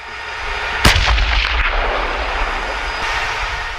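A tank's 125mm smoothbore main gun fires a single sharp, very loud blast followed by a long rumbling roar and a steady engine drone, no voices.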